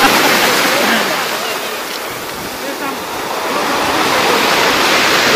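Stormy Black Sea surf at Lazarevskoye keeps up a loud, continuous roar of crashing waves close by. The noise swells and eases slightly without pause.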